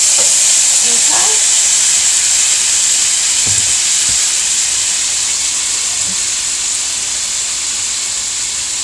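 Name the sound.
brown sugar mustard salmon frying in a pan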